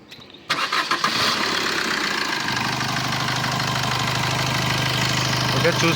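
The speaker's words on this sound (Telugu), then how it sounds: "మళ్ళీ స్టార్ట్ చేస్తున్నాను చూడండి." A 2018 Maruti Brezza ZDi+ diesel engine restarts with a short burst of cranking, then runs into a loud, steady, close idle with a low rumbling drone that carries on to the end.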